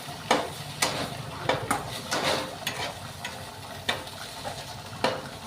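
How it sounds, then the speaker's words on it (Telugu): Goat tripe fry with salt is stirred in a pan, with steady frying sizzle under repeated sharp scrapes and clinks of a spoon against the metal, close and fairly loud. "అలాగే రుచికి సరిపడా ఉప్పు, వేసి బాగా కలుపుకోవాలి."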